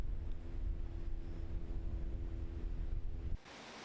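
Surf on Gomseom beach in Taean, South Chungcheong, in late summer: a steady broad wash of waves with low rumble and wind buffeting, continuous and moderately faint, cutting off sharply near the end.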